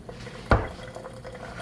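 Boiled potatoes, about four of them, tipped from a hot pot into a colander in a home kitchen, with one short, loud splashing gush of draining water and a clatter of the pot, followed by faint kitchen ambience.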